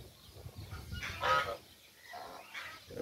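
A goose gives a few faint honks outdoors, scattered short calls over a low, quiet background with no one speaking.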